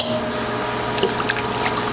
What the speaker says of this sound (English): I'm gonna add my blend of beef and chicken stock